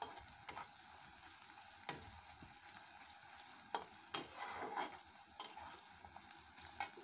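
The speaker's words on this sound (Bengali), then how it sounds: "আর মাঝে মাঝে নেড়ে দিতে হবে যেন পুড়ে না যায়।" Onions fry in a pan over medium heat with a soft, steady sizzle, broken by intermittent scraping and knocking as a spoon stirs them.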